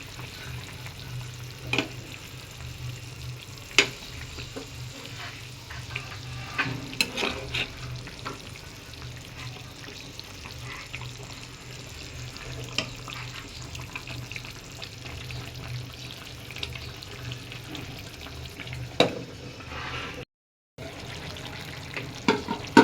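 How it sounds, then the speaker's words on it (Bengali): Fish cooks in a bean and potato curry, producing a soft, steady simmer and sizzle with scattered clinks and scrapes of a stirring spoon against the pan, fairly quiet and with no talking. "এখন আমি মাছগুলোকে দিয়ে দিচ্ছি।"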